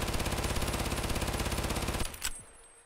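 A basic gun in Tarkov fires a rapid full-auto burst at close range, a dense rattle of evenly spaced shots for about two seconds before cutting off into a brief echoing tail.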